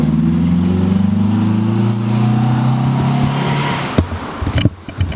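A lightened Mitsubishi car pulls away, its engine note rising loud and close, then fading into the distance and leaving a few scattered knocks and footsteps at the end.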